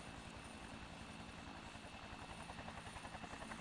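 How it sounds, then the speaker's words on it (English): A helicopter in the video game Evangelion Iron Maiden, a steady low rotor drone with a rhythmic chopping pulse that grows stronger toward the end, heard alone with no speech. "I hear a helicopter."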